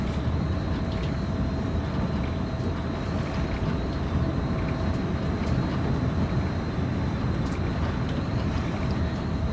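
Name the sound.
commuter train creeping along at throttle 6, video game Train Sim World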